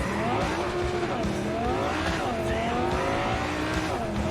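Car tires squealing and skidding through corners in the Cyberpunk 2077 video game, a continuous loud screech with rising and falling pitch over engine roar, with no talk over it.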